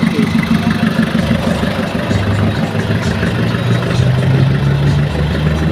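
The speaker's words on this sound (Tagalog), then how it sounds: "Itong pong makina natin ay Puso 4030 po ang laki ng ating makina." A Fuso 4030 truck engine idles steadily up close, a continuous low mechanical drone with a slight rise in pitch near the end and no talking over it.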